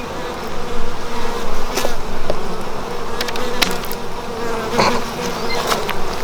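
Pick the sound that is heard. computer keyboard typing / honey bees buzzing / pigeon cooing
honey bees buzzing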